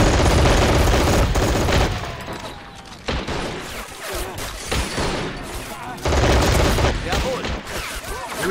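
Heavy gunfire rattles through a Men of War Assault Squad 2 battle, loud sustained bursts of machine-gun and rifle fire that ease off midway before another dense volley returns.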